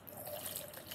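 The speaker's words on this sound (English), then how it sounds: "There we see the water coming out." Water trickling out of a released tube during a porosity and permeability demonstration, a steady soft flow with faint dripping throughout, fairly quiet and continuous with no voices.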